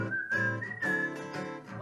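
Whistling by a performer singing at a fringe theatre show, a clear melodic tune of a few sustained notes, close and fairly loud, with musical accompaniment underneath.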